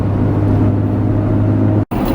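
A Porsche Cayenne engine gives off a steady, loud, low burble and hum with no speech, cutting out abruptly for a moment just before the end.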